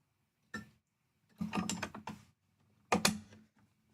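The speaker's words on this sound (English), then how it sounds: "Now I put the stitch plate back on." Metal stitch plate of a sewing machine being set back in place during cosplay sewing work: a few short, close mechanical clicks and clacks in separate bursts, with a cluster of rattling contacts in the middle and one sharp snap near the end.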